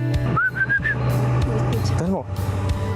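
A short rising whistle of a few quick notes over steady engine rumble and background voices, followed later by a lower warbling tone.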